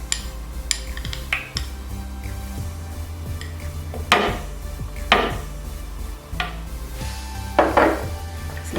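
A spoon scrapes and clinks against a bowl while yogurt marinade for beef dum biryani is mixed. The contact sounds are close and irregular, with a few sharper knocks and rattles among them.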